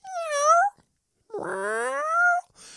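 Someone imitates a sad, dejected cat's meow, giving two drawn-out, wavering mews separated by a short pause, close and clear with no talking.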